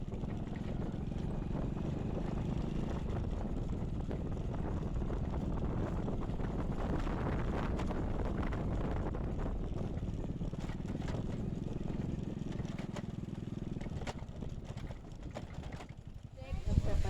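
A boat crosses a river in mountainous country, its motor a steady low drone mixed with wind buffeting the microphone, continuous throughout with a rougher, louder patch at the end.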